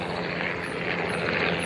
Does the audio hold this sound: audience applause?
no